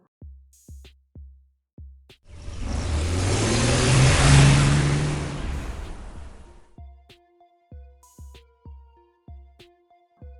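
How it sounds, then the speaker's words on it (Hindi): A large car approaches outside a bungalow gate, its engine swelling into a loud, broad rumble that peaks and fades as it comes to a stop, framed by rhythmic dramatic music thumps before and after. "एक बड़ी सी गाड़ी गेट के बाहर रुकती है।"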